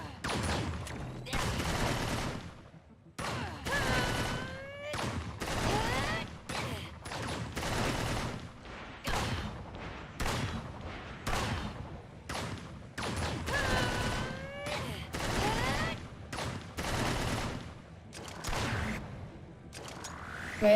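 Vera's gun firing in Tower of Fantasy, repeated bursts of shots in an uneven rhythm across the whole stretch, with ringing metallic whooshes between volleys.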